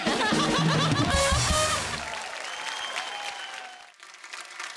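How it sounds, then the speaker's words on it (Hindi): A studio audience at a comedy talk show claps loudly, with light laughter mixed into the first seconds, then the applause thins out under a quieter, lingering crowd sound. "ओहो, तालियां"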